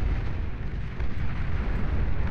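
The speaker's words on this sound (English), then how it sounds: "Boom goes the base for Florio, though." A base blowing up in the real-time strategy game Beyond All Reason, a dense, sustained explosive rumble with heavy low-end roar that holds steady and loud for the whole couple of seconds.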